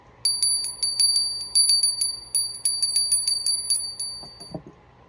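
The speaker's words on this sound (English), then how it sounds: "I'm gonna ring my bell" A small handheld bell rung to clear the energy, rapid bright metallic dings repeated in quick irregular bursts, close and clear with no talking, then a soft thump at the end.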